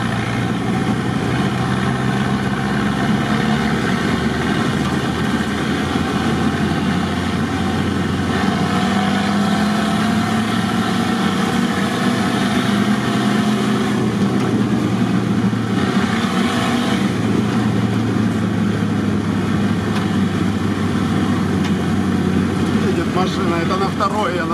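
Steady, loud car engine drone with a low rumble while driving on the way to an off-road spot, continuous throughout, with people talking over it.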